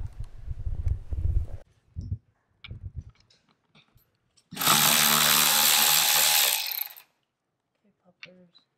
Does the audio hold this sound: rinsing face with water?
no